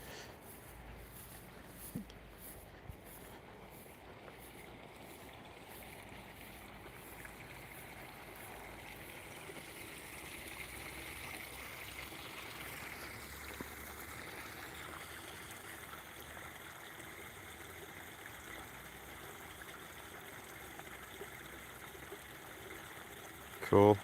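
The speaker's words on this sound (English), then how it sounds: "Check out the creek. It's a bit wet." A creek flows steadily nearby at night, a continuous wet rushing and trickling that fills the whole stretch at an even level, with faint noises over it and a brief handling clatter at the very end.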